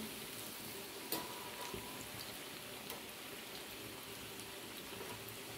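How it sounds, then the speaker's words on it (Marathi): Dal batti dumplings frying in hot oil until golden, a steady soft sizzle and crackle like light rain throughout, with a few sharper pops near the start. "मस्त सोनेरी रंग येईपर्यंत तळून घ्यायचे आहे."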